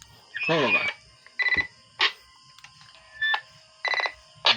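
Short bursts of electronic beeping from a radio's CW tail tone, several quick tones in a row, separated by brief pauses and repeated a few times, loud and close.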